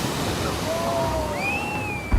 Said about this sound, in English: he notices a set of unusually large waves heading toward a small group of picture takers